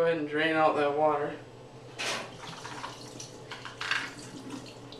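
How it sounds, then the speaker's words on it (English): Water drains from a can of chicken breast into a kitchen sink. A short splash is heard under a person talking, with a few brief clinks and trickles afterward, fairly quiet and close. "And go ahead and drain out that water."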